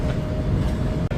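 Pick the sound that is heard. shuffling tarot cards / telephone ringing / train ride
train ride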